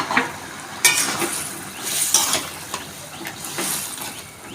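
Water from boiled rajma (kidney beans) poured into a pan with the beans, turmeric and salt, giving a brief splash and hiss followed by a soft bubbling simmer, near and moderately loud, no talking.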